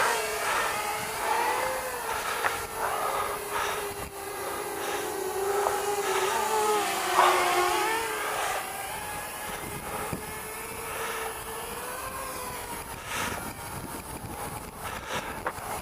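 A FeiLun FX127 RC helicopter flies with a sustained electric whine whose pitch rises and falls as the throttle changes, loud and close throughout over a steady background hum.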